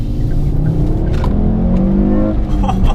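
A 2007 Ford Focus ST500 with a Mountune MT260 remap spins its wheels, its engine revving loud and close in a sustained rising drone, with a brief voice heard under the noise.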